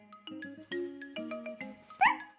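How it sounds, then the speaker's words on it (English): A small cartoon dog gives a string of short, happy yips and barks in a bright, playful rhythm, close and clear, with light musical tones mixed in. "Oh, Snuffy, said Miffy, you are such a clever little dog."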